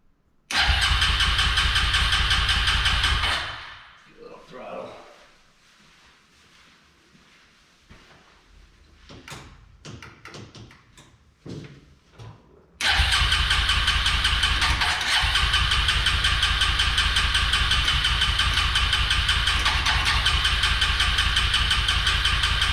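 Suzuki LTZ-250 ATV engine in need of carburetor work, running loud and steady, then cutting out into sputtering, uneven attempts before roaring back to a sustained, even run.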